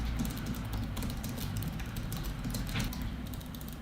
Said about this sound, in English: now the same sentence typed on my old keyboard